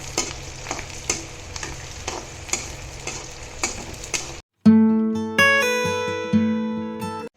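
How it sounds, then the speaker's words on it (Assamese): Chopped onions, two medium ones, frying toward brown in a pan for a goat meat curry, with steady sizzling and rhythmic scraping stirs for about four seconds before a sudden switch to loud tonal music. "মই এইখিনি লৰাম ভালদৰে অকমান বাদামী ৰং হোৱালৈকে মই এইখিনি ভাজি থাকিম"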